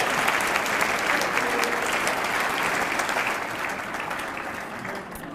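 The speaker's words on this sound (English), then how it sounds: "let's give another round of applause to the Patrick Henry Middle School Band" Sustained audience applause for the Patrick Henry Middle School Band at a Teacher of the Year 2019 event: a full, even wash of clapping from a large crowd that holds steady and tapers slightly at the end.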